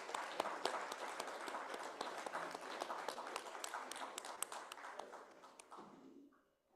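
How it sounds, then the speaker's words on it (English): Audience clapping at a healthcare awards summit, a dense, steady burst of applause from a crowd in a hall that carries on for several seconds before tapering off into quiet. "Please give a round of applause to the first runner-up."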